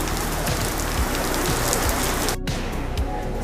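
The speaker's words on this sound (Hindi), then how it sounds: "देखिए यहाँ पर बारिश।" Heavy monsoon rain at a Lonavala resort makes a constant, loud wash of drops striking nearby surfaces, with a brief dropout in the middle and no talking.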